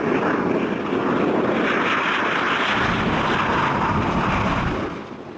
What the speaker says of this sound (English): Private jet. A jet aircraft designed for private use